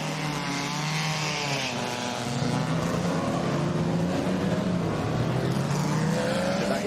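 Ross Brawn's early-1950s Le Mans-era sports car runs at Goodwood Revival with a loud, rasping engine note that rises and falls through gear changes, a continuous close roar with no talk over it.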